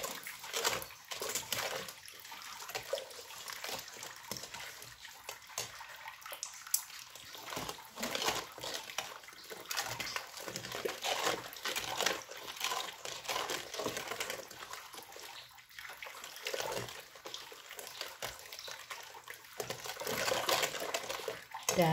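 Chocolate pudding mixture for cup puddings is stirred in a bowl, giving continuous soft liquid swishing and scraping with irregular clicks throughout, moderately quiet and alone.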